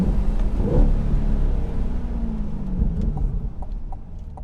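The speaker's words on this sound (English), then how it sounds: "How good's that engine sound?" A 2020 Chevrolet C8 Corvette's 6.2-liter naturally aspirated V8 growls steadily, with a low rumbling rev that swells early and then settles into a sustained, loud drone.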